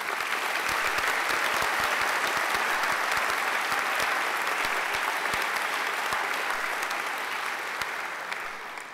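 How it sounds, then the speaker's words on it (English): Dense, steady applause fills a hall at a graduation ceremony after a singer performs, a sustained round of clapping from a large audience with no talk over it, easing slightly at the end. "So I think she deserves another great round of applause."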